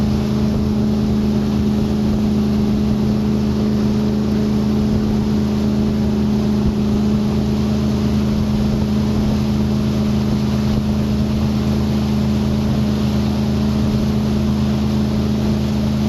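A 2020 Centurion Vi24 wake surf boat engine drones loudly and continuously over rushing water and wind buffeting the microphone, with no break in the noise.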